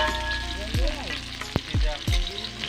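Cumin seeds fry in hot oil with a close, crackling sizzle, broken by a few sharp thumps and downward-swooping knocks as the pan is handled.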